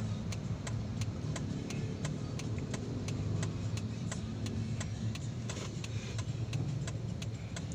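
Steady road traffic on the Sibulan highway in Negros Oriental, a continuous low rumble of passing vehicle engines with regular faint ticking throughout and no talking.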